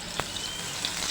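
Medu vada batter slips into hot oil and sizzles, a steady fine crackle with one soft plop near the start, close and alone with no talk.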